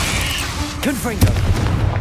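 A Confringo spell blast in Hogwarts Legacy, a booming explosion with crackling bursts under game music and a spoken voice.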